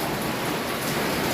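Heavy rain pours down hard onto a house, a loud dense wash of steady hiss with no letup over a short stretch.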